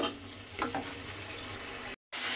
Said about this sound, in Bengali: একটু সময় কষে নেব যতক্ষণ না পর্যন্ত এই যে মশলাটা থেকে তেলটা ছেড়ে যায়।